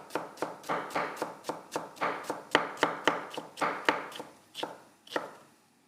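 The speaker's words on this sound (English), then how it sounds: "So, I've got a red onion. Just going to slice that." Knife slicing finely through a red onion on a cutting board, about seventeen crisp, evenly spaced chops in a steady rhythm, close and clear with no talking.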